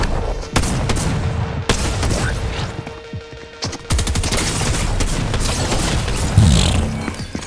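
Submachine gun fire in the video game Fortnite: rapid, dense bursts of shots with booming impacts, loud and close, continuing almost without pause.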